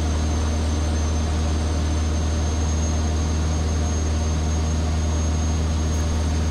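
A Vans RV-7A experimental aircraft in flight on its first flight, its engine a steady, loud, unbroken drone with a deep low rumble and a constant tone, heard from inside the cabin with no talk.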